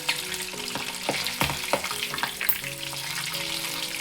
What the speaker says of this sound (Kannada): ಅವಾಗ ಚಟಪಟ ಸಿಡಿಯೋದು ಒಂದು ಸ್ವಲ್ಪ ಕಡಿಮೆ ಆಗಿ ಚೆನ್ನಾಗಿ ಇದನ್ನು ಫ್ರೈ ಆಗುತ್ತೆ